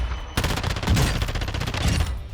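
Rapid automatic fire from an Advancer rifle in the video game DMZ rattles out in one dense burst. The fire is loud, close and continuous for about two seconds, with no talk over it.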